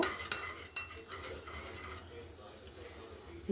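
A spoon stirs tamarind water with black salt in a bowl, producing quick clinking and scraping strokes against the sides that fade into a quiet pause.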